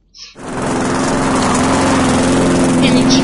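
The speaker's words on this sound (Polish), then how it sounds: "O, kosiarka, możemy sobie kościć trawkę" A lawn mower runs in the video game Good Husband Simulator, starting with a short sputter and then holding a loud, steady engine drone with a constant buzzing hum throughout.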